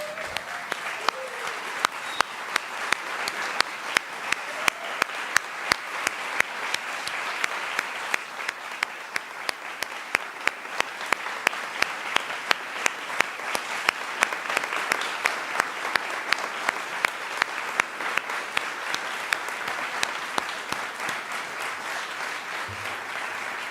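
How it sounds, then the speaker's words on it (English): A large event audience stands and gives sustained, thunderous applause honoring donors at a rehabilitation and research groundbreaking, with dense, steady clapping that fills the whole stretch at fairly close range. "I would just like everybody to stand to their feet and give a thunderous applause to Dan and Jennifer Gilbert"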